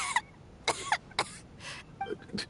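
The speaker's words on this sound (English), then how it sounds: "How long have you had that cough, Tonya?" A man coughs in a few harsh, separate bursts spread across a short stretch, close and moderately loud, with brief gaps between each cough, in the video game Genshin Impact.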